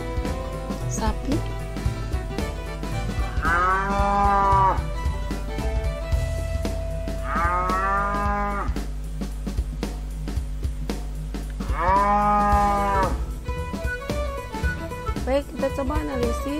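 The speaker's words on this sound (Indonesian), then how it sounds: "sapi" A cow lows three times at regular intervals, each call a drawn-out rising and falling moo, heard over steady background music.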